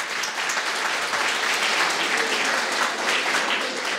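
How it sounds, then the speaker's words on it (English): An audience at a university inaugural lecture applauds, a dense and steady burst of clapping that fills the whole stretch. "Let's give him a round of applause."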